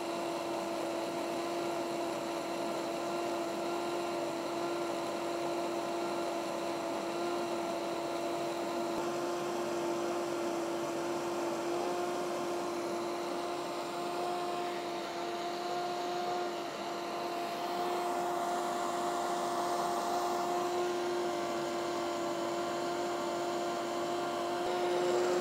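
A King Mix KM Q6A kitchen blender running continuously with a steady motor whine and hum, its tone and intensity shifting as it changes modes, growing rougher and louder near the end.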